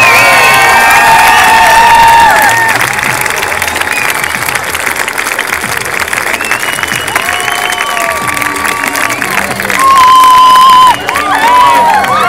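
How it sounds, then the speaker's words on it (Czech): Loud stadium crowd at the Golden Spike athletics meeting in Ostrava, applause and cheering with whoops and shouts, a sustained roar that dips briefly then swells again, with tonal announcer-like sounds faintly mixed in. "Ještě jednou potlesk pro Kyrany Jamese!"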